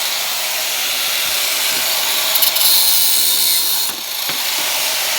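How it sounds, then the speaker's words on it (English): Milling machine cutting a weld off a Ford Mustang part, a loud, steady, close high-pitched whine. It dips briefly near the end, with no talk over it. "Cut them off, clean the end of it back off, we'll mill the weld off of it."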